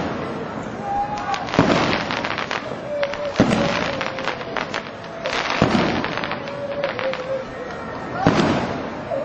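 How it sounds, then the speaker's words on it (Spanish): New Year fireworks bursting over the bay at Playa Chica in Cartagena, Chile, with repeated booming explosions and crackle spaced a second or two apart, rolling echoes between them, and a voice narrating over the display. "Una tras otra, las bombas pirotécnicas fueron iluminando la bahía de la Playa Chica de Cartagena"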